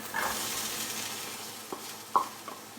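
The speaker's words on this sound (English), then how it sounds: "there, that goes my onions, and of course we're gonna keep sauteing" Onions sauté in olive oil with ginger and garlic over low heat, a soft steady sizzle broken by a few brief utensil scrapes and taps near the end.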